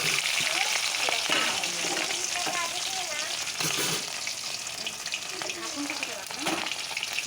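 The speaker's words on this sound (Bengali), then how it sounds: "এটা রুই মাছ, এটা ভাজা করব এখন" Rohu fish sizzles steadily in hot oil in a wok, a dense continuous frying hiss with occasional stirring clatter, while a voice talks in the kitchen.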